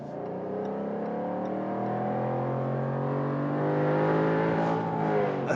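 A 2024 Jaguar F-Type R Roadster's V8 engine revs steadily and loudly for several seconds, a continuous rich rumble that swells slightly toward the end, heard alone without talk.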